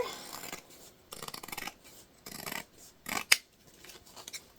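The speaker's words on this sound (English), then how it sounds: "we're just going to cut off the side seam here as well" Scissors snipping through a fabric placemat to remove its side seam, heard as several short bursts of close, soft cutting and rasping with pauses between, ending in a sharper snip.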